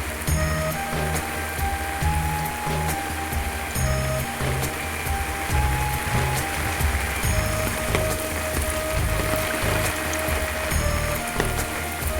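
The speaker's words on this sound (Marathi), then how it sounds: "आता पाऊस जास्त आहे सकाळपासून" Heavy monsoon rain pours steadily in the Konkan countryside, a dense continuous hiss with no letup, and a low rumbling undertone throughout.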